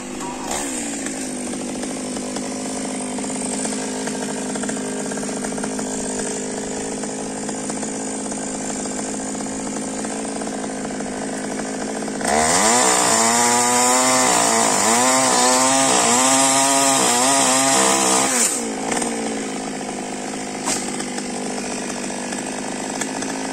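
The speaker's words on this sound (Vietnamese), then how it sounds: "Cưa cây này á là cưa hết trơn cây luôn á bà Tư." A motorized saw drones loudly and continuously in front of a house, rising to a harsher, bogging whine midway as it bites into a tree trunk, then settling back to a steady idle.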